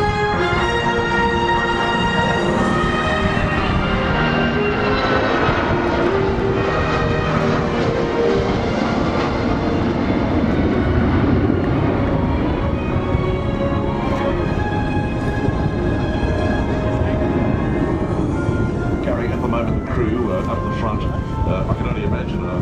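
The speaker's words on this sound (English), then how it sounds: "What we're going to see now, after that really impressive takeoff, is an equally impressive slow flyby." Large military aircraft making a slow flyby at the Avalon 2009 air show, a loud continuous engine roar with steady rumbling and whine that stays strong throughout, with faint voices underneath.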